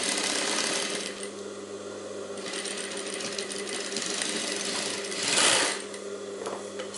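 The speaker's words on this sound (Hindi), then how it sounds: "ये यहाँ से ये लास्ट तक ले लेनी है सिलाई" A sewing machine stitches a blouse with a steady, fast mechanical whir that runs continuously close by, with a brief louder burst near the end.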